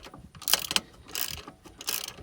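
A hand ratchet snugs an alternator bolt on a 2007 Freightliner Columbia truck in three short, close bursts of rapid clicking.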